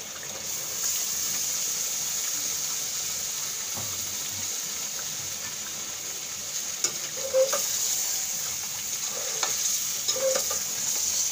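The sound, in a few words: fish frying and stirred in spice masala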